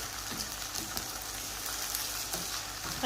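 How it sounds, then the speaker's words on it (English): Tomatoes sizzle and fry steadily in a pan, a close, even crackling hiss with faint stirring clicks and no talk. "And then we're just going to cook these until they lightly soften."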